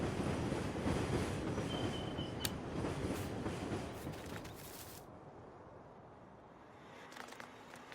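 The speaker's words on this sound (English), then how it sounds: "A little fun passenger train that just comes through." A passenger train in Farming Simulator 19 on the Shamrock Valley map rolls past close by, a loud rushing rumble with wheel clatter and a squeal that fades away after about five seconds.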